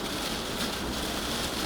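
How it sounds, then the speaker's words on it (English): Heavy rain pelting a car while driving, heard from inside as a dense, steady wash of drumming noise with no talk over it. "it's actually raining pretty heavy"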